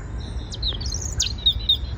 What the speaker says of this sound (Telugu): బాగుంది నేచరు, పక్షుల సౌండ్లు ఎన్నో వస్తున్నాయి, వినిపిస్తున్నాయి మీకు.